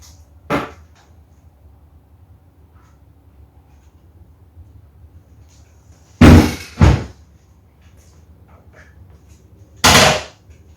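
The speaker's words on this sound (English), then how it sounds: "now I can actually demonstrate that this Centerstand actually works" Honda VFR 800 (2014) motorcycle centerstand in use: sharp metallic clunks and thumps, one early, a close pair near the middle and one more toward the end, separated by quiet.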